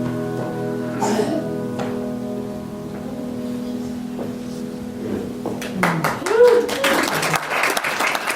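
An audience applauds the musicians at a live event. Dense clapping starts faint beneath lingering sustained music and a voice, then swells louder and closer near the end.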